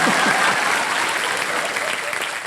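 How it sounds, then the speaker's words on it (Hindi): A studio audience on a game show set claps in a dense, steady burst of applause that carries on without a break. "तालियां मेरे लिए"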